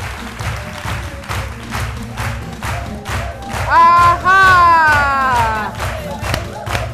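Loud studio audience applause and cheering at a daytime Ivorian television talk show, steady clapping with a surge of shouts and whoops midway, a brief vocal exclamation near the start.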